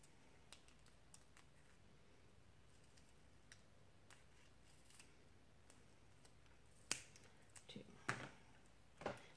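Scissors cut material for a mason jar shaker, faint clicks and snips at first, then a few louder sharp snips near the end, quiet and close with no talking.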